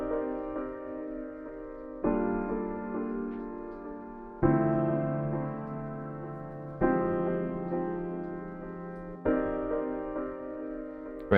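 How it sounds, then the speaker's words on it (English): Sustained piano chords struck about every two to three seconds, each swelling and trailing into repeating echoes from a vintage-style delay whose moving playheads shift the repeats; loud and close with no voices. "if you want to add some movement and delay to that, it sounds like this"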